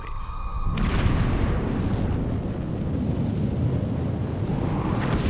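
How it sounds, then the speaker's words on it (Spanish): A deep, sustained rumbling roar swells in after a short quieter opening and holds steady, like a distant blast's shock wave rolling through, from an exploding asteroid. "hasta que finalmente explotan. Es la onda expansiva."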